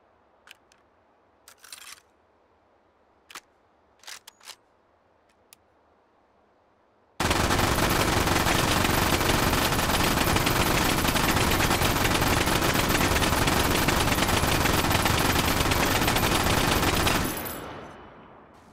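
An MG42 machine gun in the VR game Hot Dogs, Horseshoes & Hand Grenades rips out one very loud, continuous burst of about ten seconds that stops abruptly, preceded by a few faint mechanical clicks of handling.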